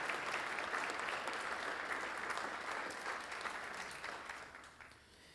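A crowd applauds at a public safety awards ceremony, sustained clapping from a hall audience that gradually thins and fades toward the end.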